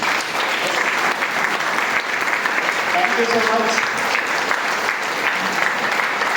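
Loud, dense applause from a large seated audience at a business presentation runs continuously, close and full, with a speaker's brief voice heard over it midway.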